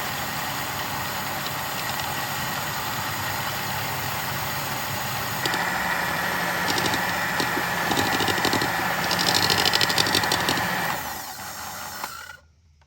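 An electric mixer whipping cream to stiff peaks for a simple dessert, a steady close motor whir that grows slightly louder and rougher partway through before cutting off at the end, with no talking.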